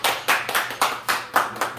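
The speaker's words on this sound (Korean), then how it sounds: "박수." Applause at a signing ceremony for a partnership agreement between a youth detectives' association and a university, a small group clapping in about seven quick, uneven bursts, close and fairly loud, with no talking.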